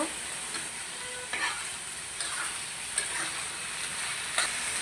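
Spinach fries in a pan with a tempering just added, giving a steady hiss of oil under a handful of spaced spoon scrapes and taps, close and clear with no talking.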